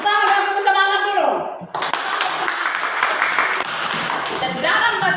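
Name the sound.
audience clapping hands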